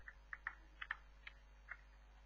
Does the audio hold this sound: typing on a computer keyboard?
yes